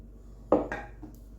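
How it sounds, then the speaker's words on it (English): A spatula scrapes homemade hamburger bun dough off the sides of a bowl: two short, close scraping strokes with a faint knock after them, in a quiet kitchen. "using a spatula, it works good just to get the sides down"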